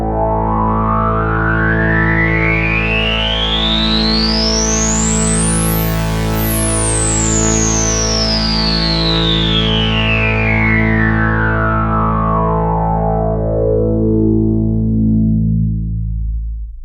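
A sustained Sequential Take 5 synthesizer tone whose low-pass filter sweeps up to a piercing peak and back down, the layered voices beating and thickening as they drift apart.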